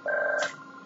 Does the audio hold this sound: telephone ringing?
yes